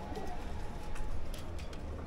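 A fancy-breed pigeon coos softly at close range, a brief low burbling call over a murmur of background noise.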